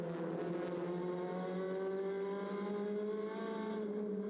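TCR touring race cars scream past at the Salzburgring circuit, a sustained, distant-sounding engine drone with rising and falling pitch as the pack sweeps through a right-hand corner.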